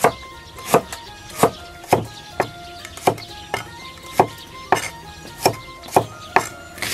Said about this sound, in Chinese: 切点配菜